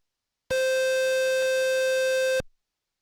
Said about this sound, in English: a typical basic instruction that emits a beep at a certain frequency.